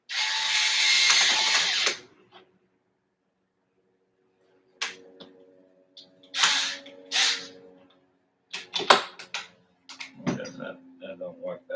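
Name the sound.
driver bit turning a screw on a toy car's front axle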